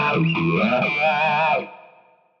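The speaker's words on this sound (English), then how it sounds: "Holy TalkBox. That's so much cooler. It's so much more TalkBox." An electric guitar through a talk box effect from a Fractal FM3/FM9/Axe-FX III preset, vowel-like wah sweeps over a sustained distorted note that cuts off and leaves a faint ringing tail, with no talk.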